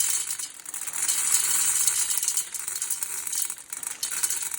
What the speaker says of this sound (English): as soon as you put them in, you should hear them frying